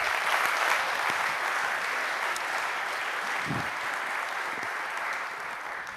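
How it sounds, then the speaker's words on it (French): Steady applause from a conference audience after a talk, a dense wash of clapping that holds throughout and eases slightly at the end. "Donc Charlène, Camille, Christophe, on peut les applaudir, parce que c'était vraiment très passionnant."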